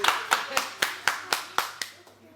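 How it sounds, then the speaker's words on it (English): A small group at a Lady Saw press conference for Summer Jam UK 2015 gives her a round of applause, heard as about eight sharp, evenly spaced claps close by. "A big round of applause for her."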